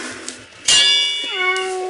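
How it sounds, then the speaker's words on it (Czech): A cat lets out a loud, drawn-out meow as it attacks a tortoise at a zoo, one close yowl rising and then sliding down, with a faint earlier sound before it. "A ta kočka napadla tu želvu."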